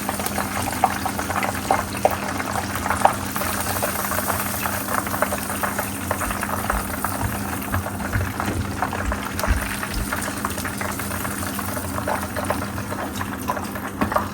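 Chicken strips frying in hot oil, a steady bubbling sizzle with low background hum and no talking.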